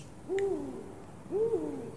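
An owl gives two hoots about a second apart, each a wavering, gliding call, clear and fairly close against a quiet background.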